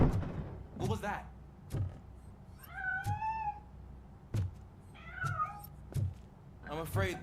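A cat in Robocop Rogue City gives two clear drawn-out meows, set among sharp knocks and thumps from a game scene. A few short other noises sit between them.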